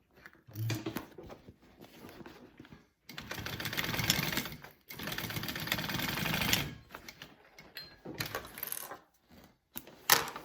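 A sewing machine stitches a fabric duffy bag closed in several stop-start bursts of rapid needle chatter, close and moderately loud, with pauses between runs.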